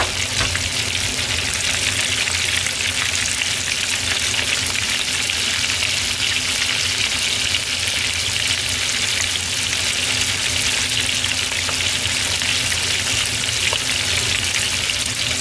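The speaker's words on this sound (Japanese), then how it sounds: "もうどんどんジュージューって言ってるね" Karaage chicken deep-frying in hot oil, giving a dense, steady sizzle and crackle that runs loud and unbroken throughout, close up with no voices.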